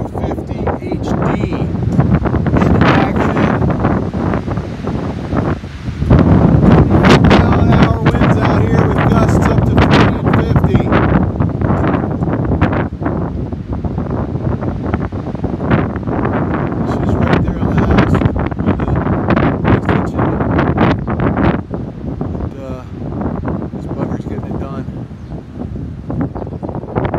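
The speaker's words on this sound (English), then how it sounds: "Wind blow real hard like you just did." Hard outdoor wind buffets the microphone with loud, continuous gusting roar and crackle for nearly half a minute, with a person talking intermittently underneath.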